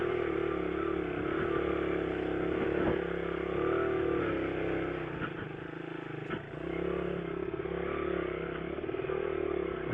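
A 1990 Honda XR100 dirt bike rides a rocky trail, its small engine droning steadily near the microphone with occasional clatters and scrapes from rocks.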